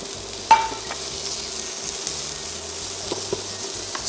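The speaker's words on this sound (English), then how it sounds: "Stir fry the prawns till they become pink." Prawns being stir-fried in a pan with spring onions give a steady, soft sizzle, with a sharp utensil clack near the start and a few light scrapes later.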